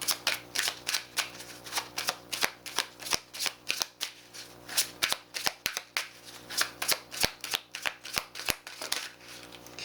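Divine Feathers messenger oracle cards being shuffled by hand, with close, crisp riffling bursts in an uneven rhythm repeating throughout and no voices.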